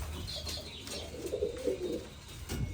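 Soft, low pigeon coos close by, a short gentle murmur against quiet background hiss.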